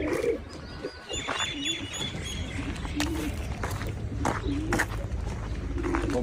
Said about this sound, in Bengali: এটা আমার আব্বুর কবুতরের ফার্ম। এখানে অনেক জাতের কবুতর আছে।